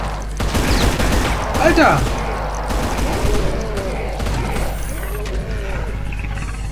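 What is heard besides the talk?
gunfire from shooting at the floor in the video game Brutal Doom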